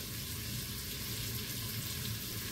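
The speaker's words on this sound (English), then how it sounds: "So I'm just sauteing these vegetables, and it says to cook them for 5 minutes until soft." Vegetables sauté in a pan with a steady, soft, even hiss and sizzle that carries on throughout with no pauses, and no voices over it.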